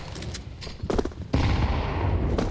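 Rapid submachine-gun fire from an MP9 in a Counter-Strike 2 match on the Inferno map, a dense burst of close, loud shots that grows louder partway through, with a second volley layered under the first.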